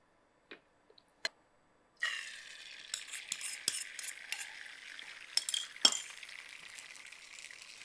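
Oil poured into a hot pan for an omelette begins to sizzle after a few faint clinks, a thin, steady crackling hiss with sharp utensil taps and scrapes scattered across it.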